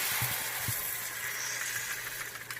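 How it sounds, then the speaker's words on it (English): Eggs tossed into a hot pan for a quick scramble give a steady broadband sizzle, hissing continuously throughout with a few soft low thumps near the start as they land. "And then I just toss my eggs in."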